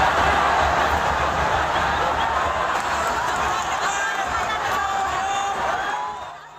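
A huge stadium crowd roars in a dense, continuous wash of shouting and cheering at the football ground, holding loud before fading near the end.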